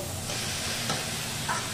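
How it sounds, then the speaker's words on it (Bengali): Turmeric powder being stirred into food frying in a pan, a brief dense sizzle with a soft scrape of stirring, close and alone. "হলুদটাকে আমি ভালো করে এবার একটু মিশিয়ে নেব"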